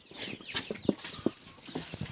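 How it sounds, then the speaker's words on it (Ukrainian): Busy chirping and peeping of chicks and ducklings in a farmyard, many small calls overlapping in quick succession, close by with a soft rustling background. "Курчатка на виголі, каченятка на виголі."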